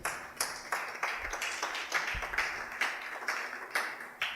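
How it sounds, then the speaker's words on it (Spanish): Applause during a church service, a modest congregation clapping with irregular individual claps at moderate distance, steady and fairly quiet throughout. "Denle un aplauso al Señor."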